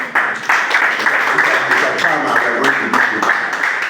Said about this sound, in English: We should clap for her.